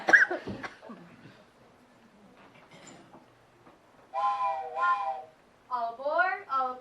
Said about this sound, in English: we did bring our train whistle